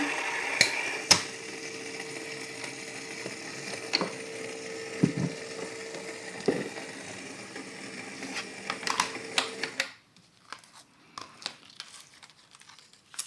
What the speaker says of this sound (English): put it into my die cutting machine.